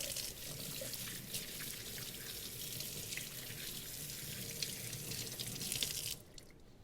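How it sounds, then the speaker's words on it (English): A kitchen tap runs steadily while hands are washed under it, a close, even rush of water that cuts off sharply near the end. "So I'm going to go ahead and wash my hands."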